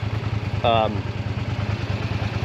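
A 1989 Honda VTR 250 motorcycle engine runs close by with a fast, evenly pulsing beat. A short burst of voice cuts in near the start.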